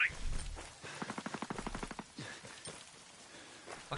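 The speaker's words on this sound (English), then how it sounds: "Hostiles are shooting." Rapid bursts of automatic gunfire in a Ghost Recon Breakpoint PvP match, a fast even rattle of shots at moderate distance, fairly quiet and followed by scattered softer pops.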